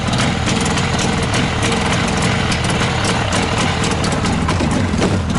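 A small engine, just started, idles steadily to warm up, a loud continuous drone with a low rumble running unbroken from start to finish.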